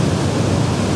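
A waterfall rushing in autumn woodland, heard as a loud, dense, steady roar of broadband water noise that holds constant with no breaks and no voices.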